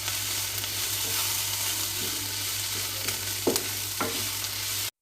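Chicken momo filling with crushed garlic and ginger sizzles steadily in a hot pan, with a few sharp scraping stirs of a spatula near the end and no talk.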